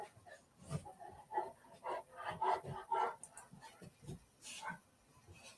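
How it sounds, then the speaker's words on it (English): A dog at someone's side, apparently hungry, makes soft close whimpers, snuffles and small vocal noises in an irregular string of short bursts. "Oh, my dog he's at my side. I guess he's hungry."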